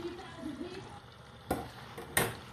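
Hamburgers frying in a grease pot, a low steady bubbling sizzle with a couple of sharp clattering knocks near the end as utensils or patties hit the pot.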